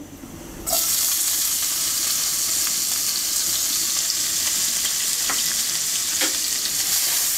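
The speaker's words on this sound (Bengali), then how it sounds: "পেঁয়াজটাকে হালকা ভেজে নেব।" Steady, loud sizzling of chopped onions frying in a pan with whole cumin seeds, starting abruptly after a quiet moment and continuing with occasional stirring clicks.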